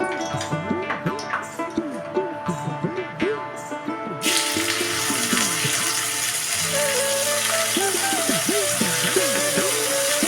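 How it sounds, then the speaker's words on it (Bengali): Hilsa fish lightly frying in oil starts partway through as a sudden, steady, broadband sizzle that keeps going at even strength, close by, while a voice with a wavering, melodic pitch carries on over it. "মাছটা হালকা করে আমি ভেজে নেবো"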